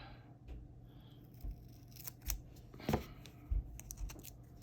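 Scissors snipping while a mic pickup is fitted to a krar, several quiet, close, crisp cuts spaced irregularly, with light handling noise between them.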